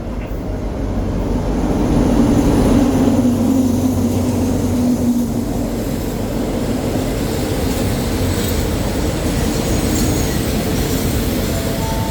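A train pulling out of Pak Khlong station on the southern line of the Thai railway, a loud continuous rumble of wheels and cars rolling on the rails that swells briefly early on and then runs steadily, with no voices.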